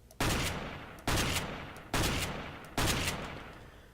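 Four evenly spaced Mag-7 shotgun blasts on a Counter-Strike: GO firing range, loud sharp reports each with a decaying tail, roughly a second apart, no voices.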